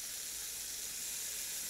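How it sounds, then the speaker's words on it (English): Garlic sizzles in a hot pan as a steady, even hiss, close and moderately quiet, with no other sounds over it. "listen to that sizzle"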